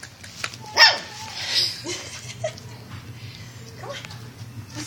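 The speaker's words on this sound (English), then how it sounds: "there's another dog getting my attention right now." Mr. Pickles, a dog at Disneyland, gives a sharp bark followed by a few softer yips and whimpers, set against busy crowd background with voices chattering nearby.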